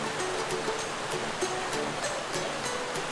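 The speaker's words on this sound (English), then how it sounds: "we have now reached the river where we are going to now hike up it so we can get to the waterfall" A river in Utah flows toward a waterfall, giving a constant broadband rush of running water, close and even, with faint irregular splashes and no voices.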